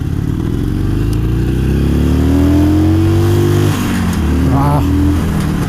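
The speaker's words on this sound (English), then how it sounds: "Hit the rev limiter." A vehicle engine revs hard and loud, climbing in pitch and bouncing off the rev limiter with a stuttering cut near the end, all close and sustained.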